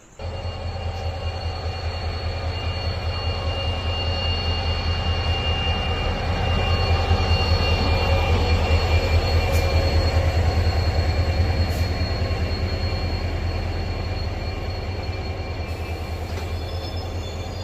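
The West Coast Express train from Mangalore to Chennai rolls steadily into a station with a low rumble and rhythmic wheel clatter, growing louder midway, with faint high squeals from the wheels.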